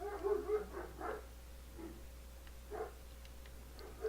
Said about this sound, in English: Why are my dogs fucking losing their mind?